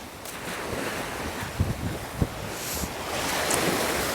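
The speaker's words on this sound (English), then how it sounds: "Every DFL loves the sea." Sea waves surging and washing at Margate on the English coast, a steady broad roar of surf with wind buffeting the microphone and a few soft thuds, close and continuous with no voices.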